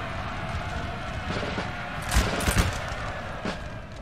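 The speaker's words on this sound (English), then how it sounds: "Oh yeah, they're going to get a volley over here." Musket volleys in the video game Napoleonic Total War 3, with a loud crackling burst of many shots over a steady roar of battle noise.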